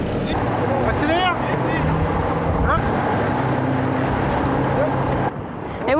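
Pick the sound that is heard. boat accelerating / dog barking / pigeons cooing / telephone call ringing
boat accelerating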